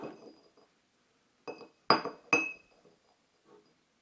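Le Creuset stoneware pestle tapped lightly against its stoneware mortar, a few sharp ringing clinks, two louder strikes close together after a softer one, with near silence between and no talking.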